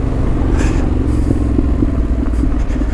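Off-road motorcycle creeping slowly along a dirt trail, its engine a steady low rumble running throughout with light clatter and scraping over the ground, close by.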